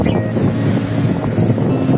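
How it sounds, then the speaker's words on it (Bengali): Strong wind sweeps across open wetland and jute fields in a village in Rajbari, Bangladesh, buffeting the microphone with a loud, uneven, gusting rumble and no speech. "এত বাতাস ও মাই গড"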